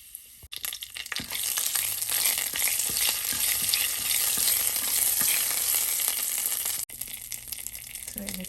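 Cumin seeds and curry leaves sizzle and crackle loudly in hot oil and ghee for a moong dal tempering, a dense, steady frying hiss up close, broken by a brief pause near the end.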